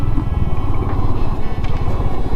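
A Royal Enfield Hunter 350 motorcycle climbing uphill on a broken road, its single-cylinder engine thumping loudly and steadily up close, with no voices.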